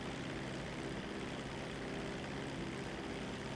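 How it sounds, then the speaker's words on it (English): A propeller plane flying in GTA 5, its engine droning steadily and loudly throughout with a constant hum and no talk over it. "this plane was a little bit slower than the other one"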